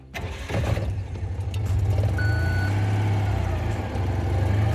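Citroën 2CV engine starting, a brief cranking followed by the small twin catching and settling into a loud, steady, close idle rumble.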